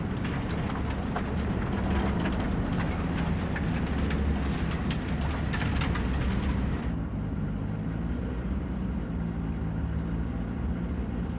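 A train ride in the video game Cyberpunk 2077 gives a steady, loud rolling rumble with rattling clatter, the brighter hiss dropping away partway through while the low drone continues.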